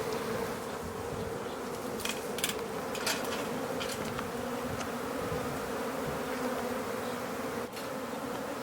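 Steady, dense buzzing of a honey bee swarm, continuous and moderately loud, with a few individual bees zipping close past now and then.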